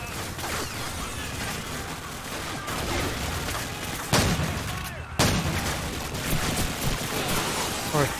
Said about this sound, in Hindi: फिर से ग्रेनेड फेंक दिया।